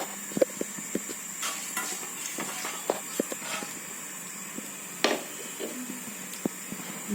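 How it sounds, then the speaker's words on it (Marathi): Mustard seeds crackle and pop in hot oil, with scattered sharp sputters and light utensil clinks against the pan, fairly quiet and without talk. "गरम झाल्यानंतर ही राई टाकूया."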